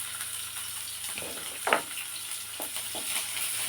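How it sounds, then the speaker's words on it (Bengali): Chopped onions fry in oil in a wok with five-spice and a dried chilli, a low steady sizzle with a sharp clatter of stirring partway through. "এখন এগুলো একটু ভেজে নেব"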